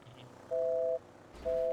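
An outgoing phone call in GTA 5 gives two long electronic ringback beeps separated by a short gap, clean and fairly loud.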